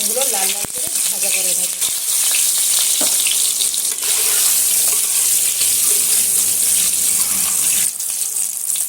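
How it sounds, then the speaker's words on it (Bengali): Scored eggs fry in hot oil in a pan for a rice, egg and potato one-pot dish, giving a steady close sizzle with occasional clinks and stirring noises. "দিয়ে ডিমগুলো লাল লাল করে ভাজা করে নেব"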